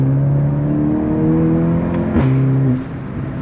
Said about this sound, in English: You know, you can just drive this car super hard.